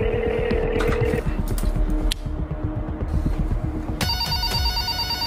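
A phone rings during an attempted call to a head teacher's office line. Repeated electronic ringing tones sound over a buzzing, throbbing background, and a brighter, sharper tone pattern begins near the end.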